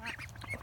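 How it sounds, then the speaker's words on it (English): Hungry farm ducks quacking in a quick, overlapping cluster of nasal calls, fairly faint and close together in a brief burst. "Come on, guys, hungry ducks."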